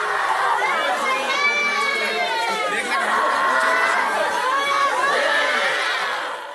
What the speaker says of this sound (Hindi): तमाम घरों से रोने धोने और चीख पुकार की